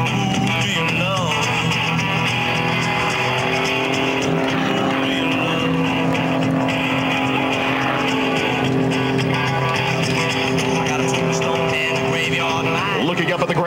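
Bulldog aerobatic plane's engine roaring steadily during a snap roll at an airshow, a loud sustained drone with shifting pitch heard from the cockpit, with a voice talking over it.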